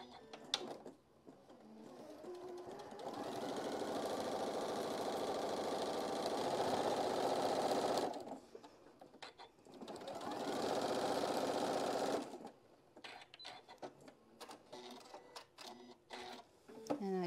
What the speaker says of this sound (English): I'm just gonna sew all the way across